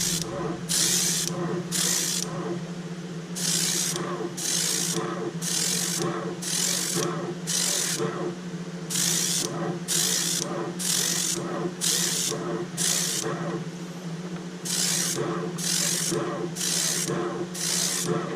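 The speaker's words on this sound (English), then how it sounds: "That noise you're hearing is my hose on the edge of my workbench here." Airbrush hose rubbing and scraping against the edge of a workbench while painting an R2S S-Waver model, heard as repeated rhythmic bursts of rasping friction over a steady hum, close and fairly loud.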